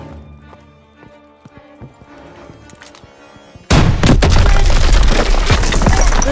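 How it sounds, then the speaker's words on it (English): A loud launcher blast tears through a weak wall in Call of Duty: WWII, bursting in suddenly after a stretch of quieter battle ambience with scattered distant shots, then rumbling debris and gunfire continuing densely. "This wall looks weak. Daniels, use your launcher to clear a path."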